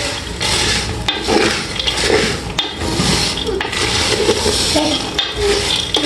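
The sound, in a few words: stirring peanuts roasting in a pot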